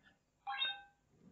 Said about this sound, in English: I heard the beep, yes.